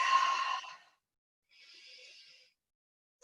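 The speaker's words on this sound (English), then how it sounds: "Taking a couple breaths." Deep breaths taken during a slow exercise routine, one long audible exhale followed after a pause by a softer, quieter breath, close and alone with no talk.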